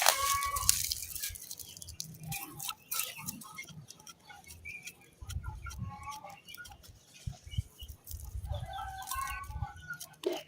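Poultry chickens clucking and calling in short irregular bursts, fairly close, over quiet background rustling and clatter, with no talking.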